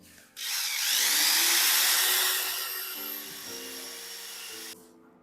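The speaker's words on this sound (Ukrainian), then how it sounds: "І ретельно вимішуємо міксером до однорідного стану." A drill-driven paddle mixer stirring pearlescent decorative paint material in a 5 kg bucket: a loud, close motor whine spins up, holds steady with churning, shifts pitch slightly, then cuts off abruptly.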